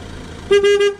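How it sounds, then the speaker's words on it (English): A single car horn honks for about half a second, loud and close, with a slight stutter in the middle over faint road noise. "Why are you honking your horn at me?"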